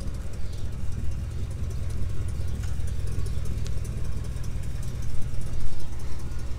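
A smooth, low 348 V8 idle in a 1961 Chevrolet Impala Bubbletop rumbles steadily and quietly throughout, with no revving and a faint hiss of background noise above it.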